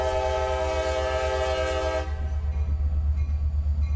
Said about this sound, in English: Nearly every day of the week, the juice train can be spotted coming and going from the Tropicana plant in Bradenton.